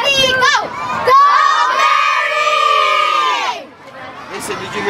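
A group of children shouts and cheers loudly together for Mary, a sustained, rising chorus of young voices lasting several seconds before it breaks off.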